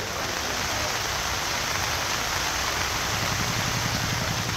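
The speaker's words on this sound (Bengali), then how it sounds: "কখনো মুষলধারে, কখনো হালকা ঝিরিঝিরি বৃষ্টি" Rain falls in a continuous, dense rushing hiss that stays loud and even throughout. No voices are heard.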